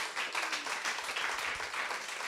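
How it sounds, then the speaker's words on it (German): A talk-show audience in a station hall applauds, a soft, even wash of many clapping hands that continues steadily throughout. "Mal einen Applaus."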